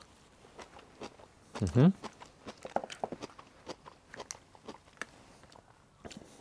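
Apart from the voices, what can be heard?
chewing crunchy daikon radish and carrots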